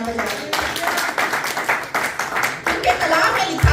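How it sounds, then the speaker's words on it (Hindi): A congregation at a Pakistani Christian fellowship service claps steadily in a rhythmic burst of applause, fairly loud and close, mixed with a speaker's voice. "अपने लिए जोरदार तालियां बजाइए"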